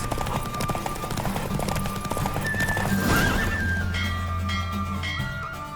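A horse in The Witcher 3: Wild Hunt neighs loudly over quick, drumming hoofbeats as it gallops in a race, with a low rumble and a high whistling tone in the background.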